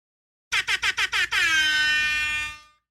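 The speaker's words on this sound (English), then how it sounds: "That definitely deserves an air horn" A loud air horn blares in five quick staccato blasts, then holds one long sustained honk that fades out.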